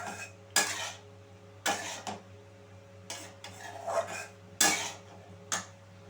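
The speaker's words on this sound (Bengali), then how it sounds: "আরও কিছুক্ষণ আমি এখানে ভালো করে মিশিয়ে নিচ্ছি।" A spoon scrapes and clatters against a pan while cauliflower and carrot curry is stirred, with about six sharp scraping strokes spaced a second or so apart over a steady low stove hum.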